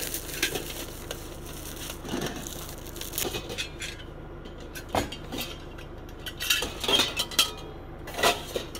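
A camping pan clatters and clinks as it is handled outdoors during car camping in a national forest, giving repeated metallic knocks and rattles in an irregular rhythm over low background noise.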